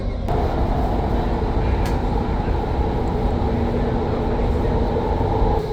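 A driverless Doha metro train runs with a steady, loud rumble and hum from inside the front carriage, with a couple of faint clicks and no clear talking.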